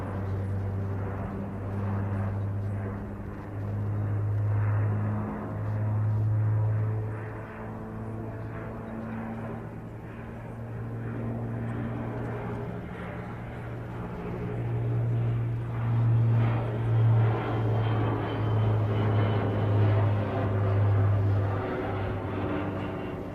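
An aircraft flies an aerobatic display at an air show, its engine drone steady and moderately distant, swelling and fading as it climbs and banks, with no voices.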